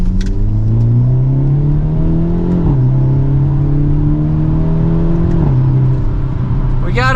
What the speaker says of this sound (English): We got a few pops in that exhaust